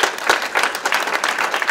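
Applause from the audience at a metro mayors' climate preparedness summit, a short burst of dense steady clapping throughout with no voices.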